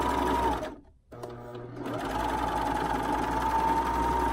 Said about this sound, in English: you can do this with your sewing machine